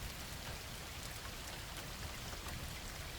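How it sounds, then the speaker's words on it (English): Heavy rain pelts a patrol car windshield, a dense, steady hiss of countless drops with no pauses, moderately quiet and free of any voices. "The rain was hitting the patrol car's windshield with such force that it almost prevented me from seeing the road."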